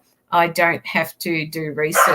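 A pet dog barks several times in a quick run, close and fairly loud, overlapping someone talking indoors.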